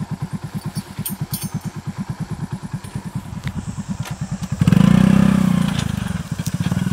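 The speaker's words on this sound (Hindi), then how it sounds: "गन्ने की गुड़ाई करते हुए नए संसाधन से मोटरसाइकिल द्वारा" A motorcycle-powered hoeing rig works a sugarcane field, its single-cylinder engine thumping in a fast, even putter close by, then revving louder and deeper for a couple of seconds before settling back to its steady beat.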